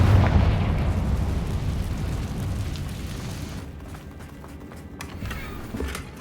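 A Confringo fire spell explodes in Hogwarts Legacy, giving a loud, dense, rumbling blast with no clear onset that slowly fades over several seconds, ending in quieter crackles and debris.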